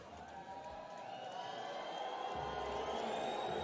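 Home fans at a EuroCup Women basketball game between Villeneuve d'Ascq LM and BAXI Ferrol jeer and whistle in a sustained, rising crowd din, with shrill whistles riding over a rumbling mass of voices that grows louder toward the end.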